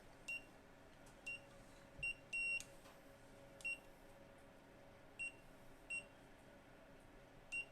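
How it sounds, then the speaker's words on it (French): A skin care device running a negative-ionisation treatment with a red lamp gives short, high electronic beeps at irregular intervals, about a dozen of them, faint and alone over a quiet low hum. "L'appareil émet des bips tout au long du soin."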